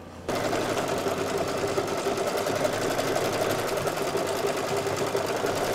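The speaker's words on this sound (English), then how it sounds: "Put your hoop back in the machine and it's going to stitch out the crosshatching." An embroidery machine stitches crosshatching onto flannel in a hoop, giving a steady, even, rapid mechanical whir that runs unbroken at moderate volume from just after the start.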